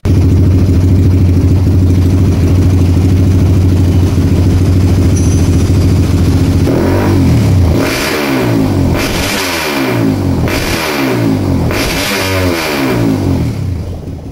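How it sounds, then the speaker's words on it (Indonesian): Motorcycle engine with a BRT four-valve CRF cylinder head and a noisy exhaust, first idling steadily, then revved hard in four or five rising and falling bursts, loud and close. "Cuman memang ini suara knalpotnya berisik ya"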